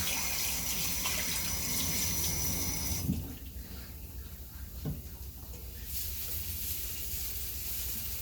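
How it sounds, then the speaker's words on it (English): Tap water runs steadily over hands at a kitchen sink while making crab cakes, a loud hiss that cuts off sharply partway through, leaving quieter kitchen sounds. "Clean my hands again."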